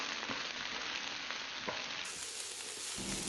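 Cut snake gourd frying in oil in a pan with salt, a steady close sizzle with soft scraping stirs throughout and no talk.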